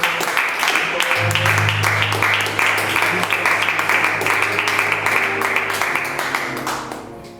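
A church congregation applauds in a steady, dense wash of clapping at a Sunday service, with sustained organ or keyboard tones underneath that fade toward the end.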